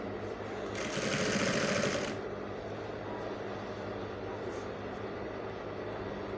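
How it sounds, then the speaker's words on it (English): A sewing machine runs briefly while stitching a kaftan seam, a close whirring burst lasting about a second over a steady room hum, then stops. "I'm going to sew here in by 1 inch"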